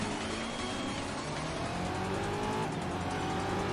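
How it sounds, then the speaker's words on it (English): An Aston Martin race car in the GRID video game launches off the line at Spa, its engine roaring steadily and climbing in pitch amid other cars, loud and continuous with no talk. "I gotta love that launch on the Aston Martin."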